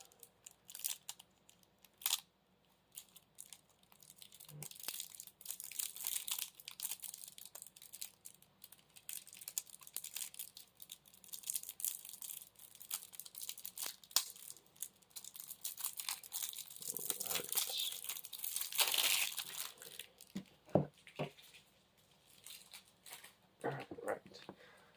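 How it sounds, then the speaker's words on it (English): Plastic wrapping on a Marvel Champions Ms. Marvel hero card pack is torn open up close, giving crisp bursts of tearing and crinkling spread over about twenty seconds, with faint talk in between. "And then for the cards, open this package up."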